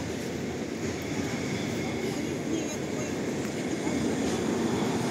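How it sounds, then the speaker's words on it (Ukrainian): Tram number 1 rolls past on a street beside Rynok Square in Lviv, a steady rumbling and grinding of wheels on rails with a constant noise wash, close and fairly loud throughout. "Трамвай номер 1."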